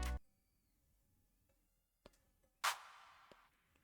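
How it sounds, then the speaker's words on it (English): A clap drum sample for an Afrobeat beat in FL Studio sounds among a few faint ticks, one loud, bright hit near the end trailing into a long reverberant wash, over a low hum. "I have this sound, I think it's a clap."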